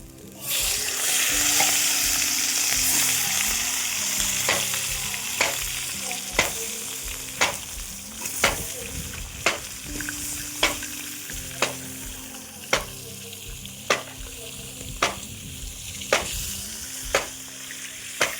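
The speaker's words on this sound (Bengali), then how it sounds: "খুব সুন্দর হয়েছে মাছ ভাজাটা" Katla fish frying in a pan, a loud, continuous hissing sizzle with a regular tapping of a spatula about once a second through the second half, close up and without speech.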